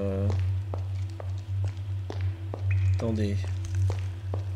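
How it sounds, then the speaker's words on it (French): Repeated footsteps in the video game Arx Fatalis, a steady series of sharp, fairly loud clicking steps over a constant low drone, with a brief spoken word near the start. "Je m'y fais pas au bruit de pas."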